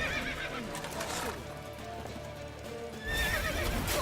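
A horse's hooves clop steadily in the video game The Witcher 3: Wild Hunt while it whinnies, over a soft patter like rain, and the sound swells louder near the end.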